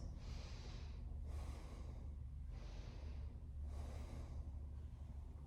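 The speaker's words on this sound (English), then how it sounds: "Inhale left, exhale right." Alternate nostril breathing in a yoga practice, slow deep inhales and exhales through the nose in a steady rhythm, about four soft breath cycles, close and quiet against a faint low hum.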